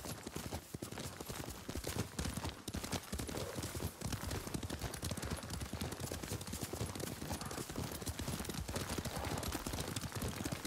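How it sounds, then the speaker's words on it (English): Rapid, continuous clip-clop of horse hooves at a steady gallop in Ghost of Tsushima, dense and close throughout. "Lord Sakai taught me to ride a horse."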